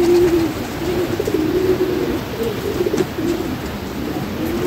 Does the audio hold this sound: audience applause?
no